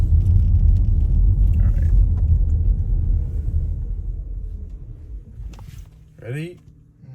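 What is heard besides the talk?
Ford Mustang Mach-E GT accelerating, 0-60 run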